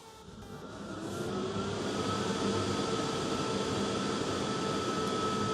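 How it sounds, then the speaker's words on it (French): Cooling fan of an AFERIY P280 portable power station spins up, a steady whirring hum that rises over the first second and then holds even and continuous, close by, with no talk. "on a un petit ventilo qui se met en route et la ventilation"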